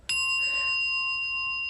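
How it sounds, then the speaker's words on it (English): A single Montessori bell from a classroom bell cabinet struck once, giving a bright, pure ding with a clear pitch that rings on and decays slowly, close by and alone. "I have to just ring one for you because I need you to listen to their sound."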